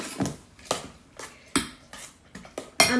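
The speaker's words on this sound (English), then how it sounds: "I'm just going to stir that in with the kraut" Sauerkraut stirred into a pot of Southern-style hot dog sauce, a spoon scraping and knocking against the pot in about seven distinct strokes, close and fairly loud with no talking.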